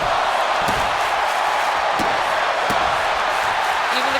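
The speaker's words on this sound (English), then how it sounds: "Even the crowd's chanting, "This is awesome."" An arena crowd in the WWE 2K25 wrestling video game roars and chants loudly and continuously, with a few sharp impacts from the ring cutting through the din.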